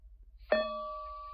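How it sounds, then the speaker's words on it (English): A phone's hourly gong alert strikes once and rings out with a clear, sustained metallic tone that slowly fades, alone in a quiet room. "I have a gong on my phone that goes off every hour to remind me"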